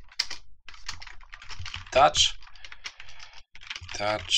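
Fast, close computer keyboard clatter as Unity touch-control code is typed, with soft irregular keystrokes running under a voice as he talks.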